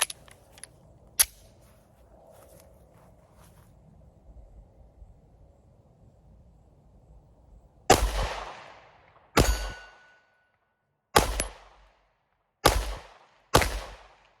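A SIG Sauer P365 X Macro Comp pistol firing five Winchester Silver Tip 115-grain jacketed hollow points at a range: five sharp, loud reports at uneven intervals, each with a short decaying echo, after quiet background.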